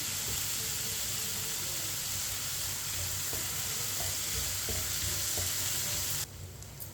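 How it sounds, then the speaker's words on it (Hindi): Garlic fries in a pan as a spoon stirs it for chicken macaroni, giving a steady, dense sizzle with faint scraping throughout, loud and continuous without talk. "लहसुन को हल्का सा ब्राउन कर लेंगे चम्मच चलाते हुए।"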